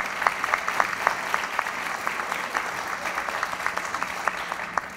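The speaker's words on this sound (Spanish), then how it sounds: "recibamos con fuertes aplausos" An audience at a national science academy anniversary ceremony applauds steadily, a dense, even patter of clapping with no voices over it.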